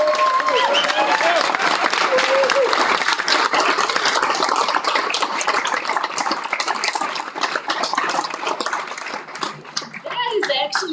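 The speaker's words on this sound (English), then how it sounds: "I want to hear a great loud cheer for everyone that came and for our startups" A large audience cheers and claps loudly at a startup accelerator demo day, a dense, steady wash of applause and shouts with children's voices mixed in, thinning slightly near the end.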